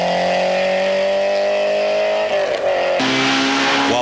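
A Citroen ZX Cup rally car on a road stage of the 1996 Rally Tour of Flanders in Belgium, its engine droning loud and steady at high revs, then shifting and dipping before pulling hard again, with no talking.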